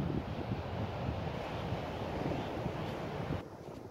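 Surf washing along a pebbly beach on the Jurassic Coast near Beer Head, a constant broad rushing roar mixed with wind buffeting the microphone, easing slightly at the very end.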